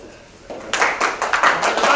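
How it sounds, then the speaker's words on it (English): A small Toastmasters club audience gives sparse, uneven clapping that starts quietly and builds into a short burst from a handful of people, with some talk underneath. "Sorry about that shitty applause."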